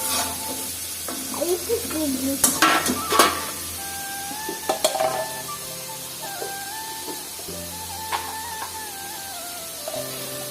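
Frying in hot oil on a home stove, a steady sizzle and hiss with a few scrapes of a heavy spatula, while people talk nearby.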